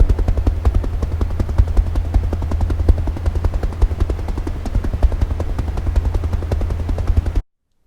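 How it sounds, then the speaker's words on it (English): Helicopter rotor noise with a steady rapid chop over a strong low engine drone, loud and close, continuing throughout with no talking. "We're drawing a helicopter."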